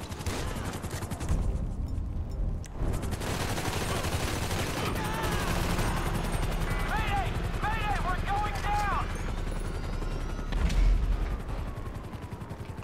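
Gunfire and a pursuing police helicopter in the video game GTA V, with dense rapid shots over a constant low rotor-like rumble throughout, along with game sirens and character voices talking over the action.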